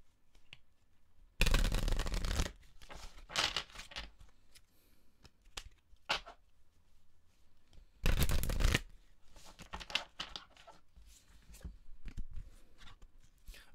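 Prism Oracle cards are shuffled in two loud riffling bursts, with softer card handling, tapping and sliding between them, close and alone without speech.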